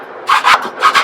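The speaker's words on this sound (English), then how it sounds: "as I'm scraping, there's seasoning there, food particles, but also a little bit of surface rust." A scraper grinds seasoning, food residue and surface rust off the metal of an Old Country Pecos offset smoker, making four loud, close rasping strokes in quick succession.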